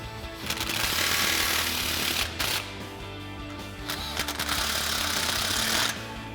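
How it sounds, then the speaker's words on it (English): Impact wrench with a 15mm socket snugging exhaust clamps on a 2022-2024 Toyota Tundra with a Flowmaster FlexFX single exhaust: loud, buzzing rattling bursts in several long runs with short pauses between them. "we're going to snug these down with our 15mm socket on our impact."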